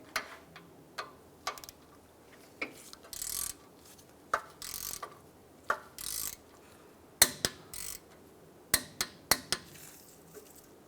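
A ratchet and socket tighten the ball joint pinch bolt on a Mazda CX-9 during a CV axle replacement, making quiet, close clicking strokes in short irregular bursts with pauses between them.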